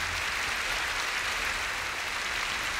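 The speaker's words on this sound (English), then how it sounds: "And let's applaud Jesus." A church congregation applauds during a service, a steady wash of clapping that holds evenly throughout, moderately loud with no voices on top.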